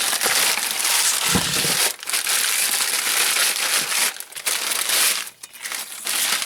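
Close, continuous crinkling and rustling of greaseproof packaging paper as a brake disc is unwrapped, with brief pauses in the crackle.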